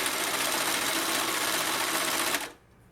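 A home sewing machine stitches fabric in a steady, loud, continuous whir with a fast mechanical patter, stopping abruptly near the end and leaving a quiet room.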